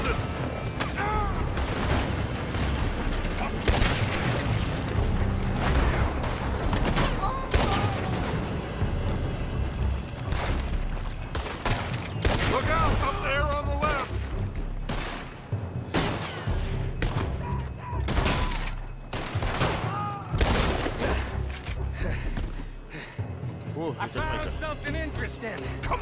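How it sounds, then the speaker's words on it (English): Dense bursts of enemy gunfire crackle through a Red Dead Redemption 2 shootout, many sharp shots in rapid, overlapping volleys with heavier booms, loud and continuous throughout. "They're shooting from that building."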